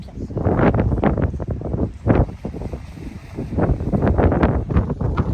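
Strong gusts of wind in Crete buffet the microphone in loud, uneven rumbling bursts that rise and fall throughout.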